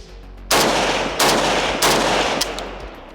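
Three loud, sharp reports from a Zastava M77 .308 rifle fitted with a muzzle brake, spaced roughly evenly about two-thirds of a second apart, each with a short booming tail, close to the listener.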